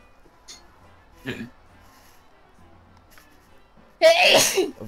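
One loud, close sneeze bursts out near the end, after a few faint, brief noises in an otherwise quiet room.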